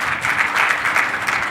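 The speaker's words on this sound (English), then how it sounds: "Warm round of applause for all the three speakers." A hall audience at a conference in Mumbai claps for three speakers, a dense, steady burst of many hands that fills the room at moderate loudness for a brief moment.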